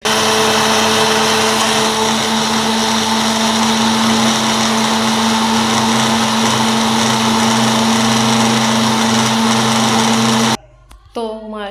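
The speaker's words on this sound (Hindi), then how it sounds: "तो इसे करेंगे ग्राइंड।" An electric blender grinds a mixed fruit milkshake sweetened with sugar, a loud, steady, high whirring drone lasting about ten seconds before cutting off abruptly, followed by a brief voice.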